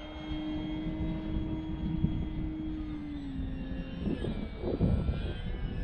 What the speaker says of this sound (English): It's a good little throw around plane.